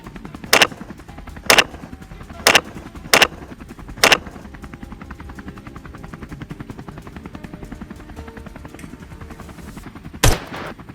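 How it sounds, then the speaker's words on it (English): Sharp, loud single gunshots fired during a helicopter hunt of wild boar, five spaced cracks in quick succession, a long pause over a steady engine-like drone, then one more shot. "the well-placed shots are merciless"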